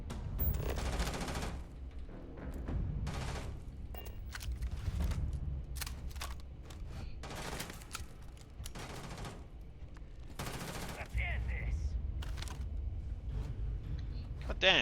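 Bursts of gunfire in the Starfield video game, repeated volleys and rapid fire sounding close and sharp throughout, with someone talking over them.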